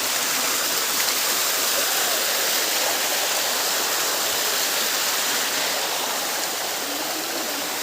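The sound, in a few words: waterfall in Mindoro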